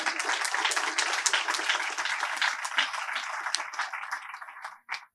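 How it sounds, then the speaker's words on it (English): An audience at a celebration of life for Kathryn Jones breaks into dense, sustained applause with many hands clapping for about five seconds. The applause thins and fades near the end, leaving a few scattered claps. "Thanks for the claps."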